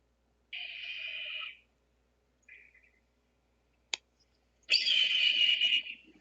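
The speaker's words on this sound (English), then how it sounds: "This is what a hawk sounds like." Recorded hawk screeches play back: a harsh, drawn-out cry, a short faint call, a sharp click, then another long rasping screech, each standing alone against silence.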